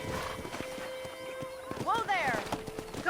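Horse hooves clip-clop at a walking pace in the video game Red Dead Redemption, faint under a man's conversation, with a brief horse whinny near the end.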